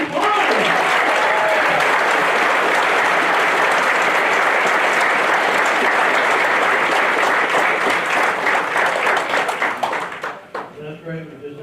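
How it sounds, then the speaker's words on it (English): Loud, dense applause from the audience at a county commission meeting, sustained clapping from many hands that fades out near the end, after which a voice begins talking. "So let's give them a round of applause."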